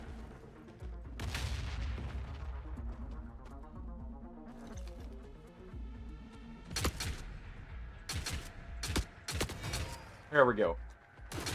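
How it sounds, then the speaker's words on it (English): Gunfire and a cluster grenade in the video game The Forever Winter: sharp booms and repeated shot bursts with a rumbling blast, fairly loud, while a player talks briefly. "Go ahead and throw a cluster grenade over there."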